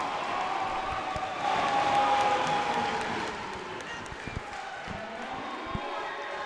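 Crowd noise fills a gym at a college women's volleyball conference match between Menlo College and Westmont, a steady roar of cheering and clapping with scattered ball bounces and footfalls during a timeout.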